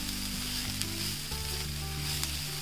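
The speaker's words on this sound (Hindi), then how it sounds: "तो 2 मिनट के लिए अच्छे से फ्राई कर लिया है सब्जियों के साथ।" Hakka noodles frying with vegetables in a pan, a steady close sizzle under sustained tonal hum with a couple of brief stirring clicks, no one speaking.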